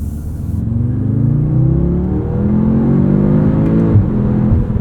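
A nearby 2025 Audi S3 engine revs and pulls hard through rising pitch, with whooshing turbo whir and a brief shift near the end.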